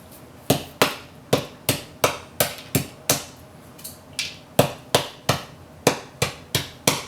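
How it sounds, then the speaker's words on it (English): A tool chisels repeatedly at hardened toothpaste, producing about twenty sharp, evenly spaced knocks and taps, close and loud, with no talking. "What if we take this end and just chisel at them?"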